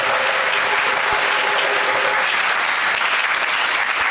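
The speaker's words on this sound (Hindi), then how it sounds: "एक बार उपाध्याय श्री के लिए जोरदार तालियां।" Loud, sustained applause from a large congregation at a spiritual discourse honoring a revered teacher, a dense, even roar of clapping that stays strong throughout.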